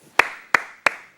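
Bare hands clap four times at a brisk, regular pace in a body percussion drill; each slap is bright, near and isolated, without any talking.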